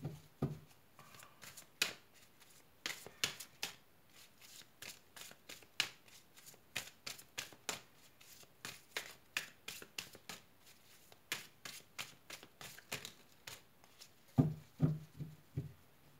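A deck of tarot-style reading cards being shuffled and cut in rapid repeated riffling bursts, crisp and close but fairly quiet, with a soft thump near the end and no voices.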